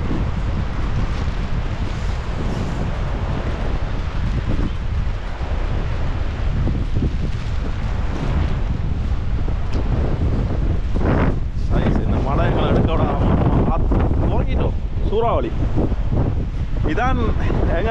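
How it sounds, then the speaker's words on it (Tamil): Strong wind roars and buffets the microphone nonstop during a storm with flooding in Altena, Germany, with a person's voice talking partly buried beneath the gusts. "அம்மா என்ன காத்தடிக்குது"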